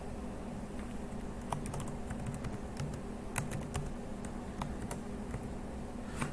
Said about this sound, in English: Let me type that in there.